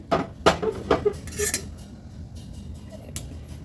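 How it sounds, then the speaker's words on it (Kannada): Metal kitchen vessels clink and clatter as melted jaggery is strained into a large metal pot, a few sharp knocks near the start and another later, with quieter rustling in between. "ಇವಾಗ ಈ ದೊಡ್ಡ ಪಾತ್ರೆಗೆ ಬೆಲ್ಲನ ಸೋಸ್ಕೊಳ್ತೀನಿ."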